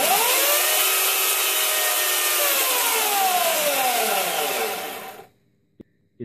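An electric chainsaw cuts through wood indoors, a loud, steady high whine with gliding motor tones that winds down as the cut ends, followed by near silence and a couple of faint clicks.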